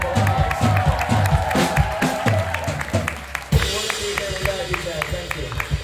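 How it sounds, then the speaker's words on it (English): Crowd at a live punk show at 924 Gilman in Berkeley, CA claps and cheers for a record producer, a steady wash of applause with whoops running throughout and the roar swelling again partway through. "Everyone give him a round of applause."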